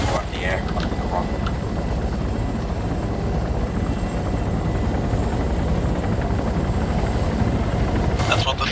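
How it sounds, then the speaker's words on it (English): Steady rotor roar of a helicopter in a combat video game drones on without a break, loud and dense throughout, with a brief rattling burst near the end and no clear talk. "This chopper's full, I think."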